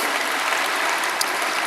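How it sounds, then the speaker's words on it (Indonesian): A church congregation claps for God during a worship service, a dense, steady wash of many hands applauding together, fairly close and sustained throughout with no talking. "Berikan tepuk tangan kita untuk Tuhan kita."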